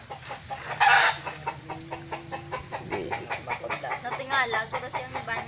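Chickens cluck in a run of short, repeated calls close to the microphone, with a louder squawk early on and people talking over them in Filipino.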